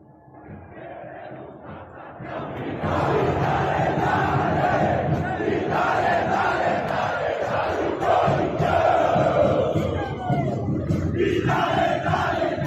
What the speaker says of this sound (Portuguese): Mas todo grito de torcida paulista parece grito de guerra.